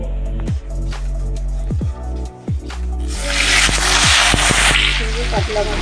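Catla fish head frying in hot oil in a wok, a loud continuous sizzle and crackle that swells partway through, over a steady low hum with sharp spatters.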